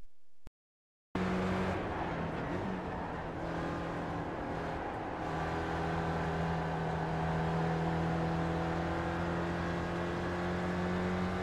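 Race car engine held at full throttle in the iRacing sim on a steep uphill at Watkins Glen, a steady loud droning roar that starts abruptly after a brief silence.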